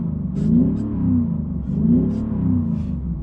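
An Audi SQ7 diesel V8, its note shaped by a sound generator, revs twice in quick succession, each rise and fall a deep, smooth rumble heard up close.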